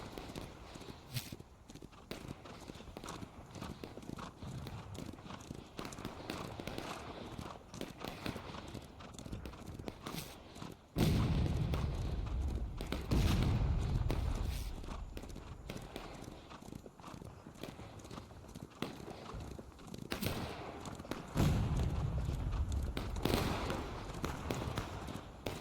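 Horse hooves clip-clop in a Civil War video game battle at Railroad Cut, a steady walking rhythm of thuds at moderate distance running through the whole stretch, with a few louder bursts of activity.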